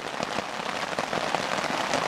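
Steady, dense rain pattering on a surface, close and fairly loud, with no voices, on the Superior Hiking Trail.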